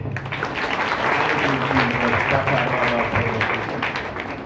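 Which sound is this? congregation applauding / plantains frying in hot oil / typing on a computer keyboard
congregation applauding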